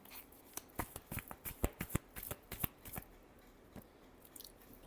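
Tarot cards being shuffled, close and fairly quiet: a run of sharp riffling snaps and flicks in an irregular burst, easing off into sparse soft taps.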